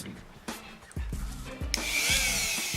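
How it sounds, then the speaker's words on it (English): Dremel rotary tool sanding the factory texture off a Glock frame: a few short scraping passes, then the tool spins up into a loud, steady high whine, close by. "I'm going to sand the original texture, the factory texture, off of the frame"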